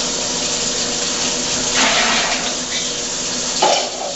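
Water pours into emptied juice concentrate cans to rinse them during apple raspberry wine making, a continuous rushing splash with a louder surge near the end.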